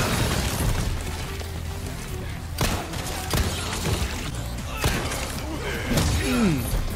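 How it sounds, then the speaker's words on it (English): Resident Evil 4 Remake grenade explosion bursts with a loud, heavy boom among a constant din of gunfire, crashes and game noise, with voices talking over the action. "Grenade."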